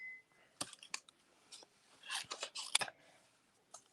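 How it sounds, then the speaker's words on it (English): Scissors snipping through paper while cutting out a stamped sentiment, a series of crisp separate cuts and clicks in a quiet room, some in quick bursts. "Now I just have to cut this out."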